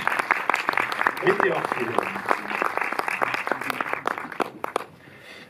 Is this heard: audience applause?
yes